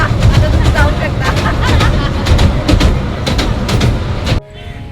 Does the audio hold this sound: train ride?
yes